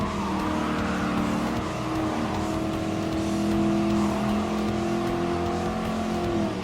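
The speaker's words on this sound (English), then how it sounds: "it looks like one tough, mean Mustang really wants to go and push us in to get on first place" A Mustang race car engine in Gran Turismo Sport drones steadily at high revs, a continuous loud roar with shifting harmonic tones and faint tire noise, close and unbroken throughout.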